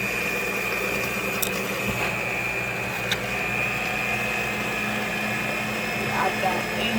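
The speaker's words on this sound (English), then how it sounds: "Your mixer is mixing the sugar and the butter, you add your egg in it" Electric mixer beating sugar, butter and eggs for a Jamaican fruit cake, a steady whirring motor hum running throughout with faint clinks, while a person talks over it.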